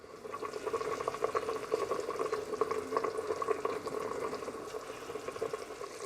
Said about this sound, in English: now it's a case of reducing the liquid down and adding some sugar in the process.